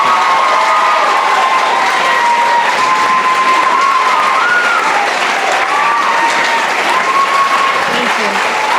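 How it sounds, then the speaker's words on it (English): A student debate audience bursts into sustained applause for two debate speakers, steady dense clapping with some cheering and a voice heard over it throughout. "How about a round of applause for Kate Davis and Chris Phillips?"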